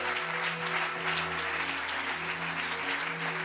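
A church congregation at a conference claps together as an offering of praise, a dense, steady wash of applause filling the room throughout, with a low sustained tone underneath.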